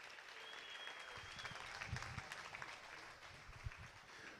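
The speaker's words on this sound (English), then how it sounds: "Give yourselves a big, big round of applause." A live auction audience at a Western heritage foundation celebration claps steadily throughout, a dense wash of applause with a few faint voices and whistles mixed in.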